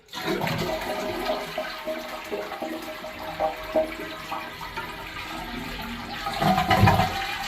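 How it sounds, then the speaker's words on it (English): A toilet is flushed after its water supply has been shut off, a loud close rush of draining water with gurgling that swells again near the end, with no voices. "Now that I shut the water off, I'm going to flush the toilet."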